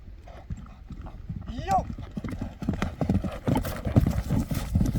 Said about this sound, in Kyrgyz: ат чуркайт экен